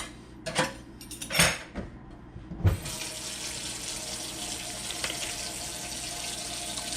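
Tap water runs steadily into a sink as Vaseline-coated hands are rinsed, with a few clatters and splashes at the start before a continuous, close rushing flow.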